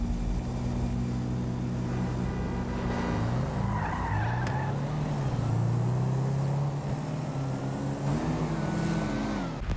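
In a GTA V street drag race, a Camaro spins its tires off the line, a loud continuous engine roar with squealing, skidding tires that rises and shifts in pitch throughout.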